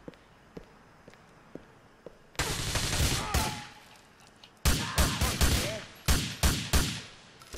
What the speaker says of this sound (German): schießen wir noch mal ein paar Mal in den Arsch